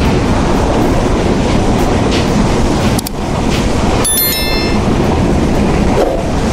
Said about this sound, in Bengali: পদ্মা এক্সপ্রেস ট্রেনের ঝড়টা একবার দেখুন।